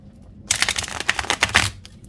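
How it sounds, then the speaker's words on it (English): A tarot deck with gold-foiled edges is riffle-shuffled up close, giving a burst of rapid papery flutters and clicks that lasts about a second, then trails off into quiet. "let's give it a good shuffle"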